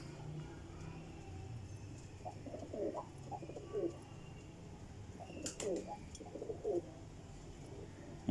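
Soft repeated cooing from Billa Motiyan Wale pigeons in a loft, several low coos spread across the clip over a faint background hum, fairly quiet and distant.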